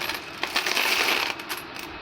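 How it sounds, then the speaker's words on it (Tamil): Years of saved coins pour out in a continuous metallic cascade, clinking and jingling loudly and close for about two seconds before thinning out. "நான் வருஷக்கணக்கில் சேமிச்ச சேவிங்ஸு இப்போ நான் உங்களுக்கு கொட்டி காமிக்க போகிறேன்."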